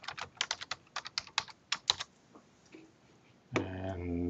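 Computer keyboard typing with a quick, rhythmic run of crisp key clicks, close and distinct, stopping before a short tonal sound at the end, as notes are written into a part drawing.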